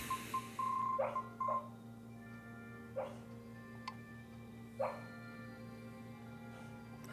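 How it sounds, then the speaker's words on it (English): A sleeping dog barks softly in her sleep, giving a few brief high-pitched squeaky yips spaced a second or two apart, faint and distant over a steady background hum. "I think I can hear my dog sleep barking in the background"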